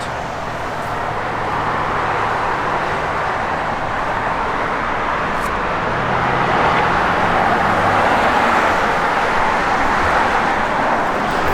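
A 1965 Ford Mustang convertible with a 289 V8, Holley 4-barrel carburetor and stock exhaust cruising on the road, a steady broad engine and road rumble with wind noise, growing slightly louder near the end.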